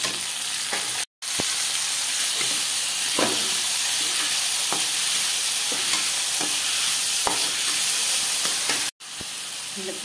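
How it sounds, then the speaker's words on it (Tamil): Onions and mint sauté in a pan for a village-style mint chutney, giving a loud, continuous hissing sizzle. Occasional soft ladle taps sound throughout, and the sound drops out twice for a moment. "நல்லா வதங்கிடுச்சு புதினாவும்"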